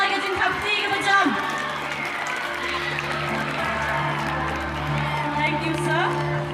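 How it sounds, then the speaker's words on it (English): Crowd applause and cheering at an Independence Day school contingent parade, steady clapping under continuous public-address talk and background voices. "Please give them a huge round of applause."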